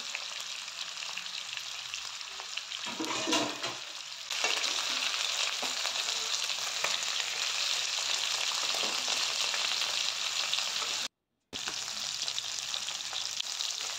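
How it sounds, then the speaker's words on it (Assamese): Pieces of fish coated in turmeric half-fry in hot oil in a wok, giving a steady, close hiss of sizzling with occasional stirring clatter and one brief cut to silence. "আৰু এটা কেৰাহীত মই তেল গৰম হ'বলৈ দিলোঁ আৰু মাছ কেইপিচ মই হালধি সানি লৈ প্ৰথমতে ফ্ৰাই কৰি ল'ম"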